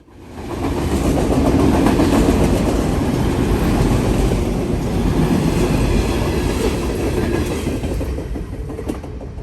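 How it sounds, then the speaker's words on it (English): A long train rumbles past close by, loud and continuous, with wheels clacking over the rails and no voices. "18 of them hooked up together today on this train."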